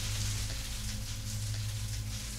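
A heavy downpour keeps up a dense, even roar close at hand, steady from start to finish with no voices over it.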